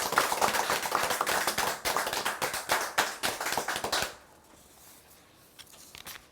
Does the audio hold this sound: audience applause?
yes